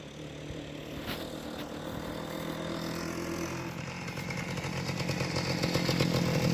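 A 1953 Peugeot Type 55 125 motorcycle's small single engine runs nearby with a buzzing, rattly tone, growing gradually louder and faster toward the end as it revs.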